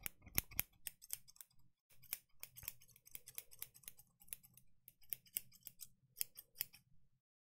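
Scissors trimming hair in an ASMR session: crisp, close snipping clicks in irregular bursts, soft and quiet with no voices.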